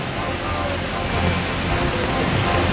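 Steady rain pours down during severe Jhelum river flooding in Jammu and Kashmir, a dense, continuous wash of noise at constant loudness with no pauses, heard alone.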